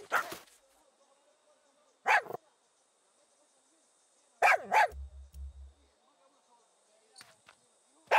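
A dog barks in the Far Cry 6 shooter game, several sharp barks in separate bursts spread over a few seconds, with a voice speaking between them amid quiet game ambience.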